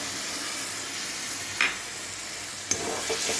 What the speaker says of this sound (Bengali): এখন আমি এখানে গ্যাসের ফ্লেমটা একদম কম করে 2 চামচ 3 চামচের মতো দই দিয়ে দিচ্ছি